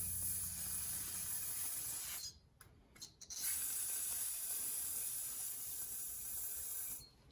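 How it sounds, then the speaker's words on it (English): Aerosol carb cleaner hissing steadily onto a 1980s Mastercraft (Poulan) chainsaw, two short breaks near the middle, then the spray continues close and loud until a brief stop near the end. "I should probably hit that with the carb cleaner."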